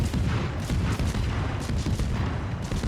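Destroyer guns in World of Warships, the Forrest Sherman, firing in rapid repeated booms over a dense, loud wash of low rumble with steady gunfire throughout.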